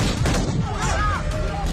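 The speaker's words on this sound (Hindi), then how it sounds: "तालिबानियों ने इतना रहम किया कि हवा में गोलियां चलाई" Taliban gunfire shot into the air at Kabul airport: a few sharp cracks ring out over a dense, noisy crowd background, with voices mixed in throughout.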